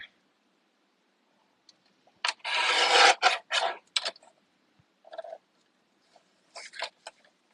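Cardstock edge being trimmed for card making, likely on a paper trimmer: a long rasping slide of the blade followed by a few shorter rubbing strokes, close and clear, with no voices.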